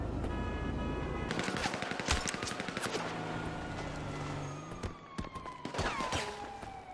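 Rapid automatic gunfire rattles in GTA 5 Online, with sharp repeated shots over a steady wail of police sirens and a few louder single cracks near the end.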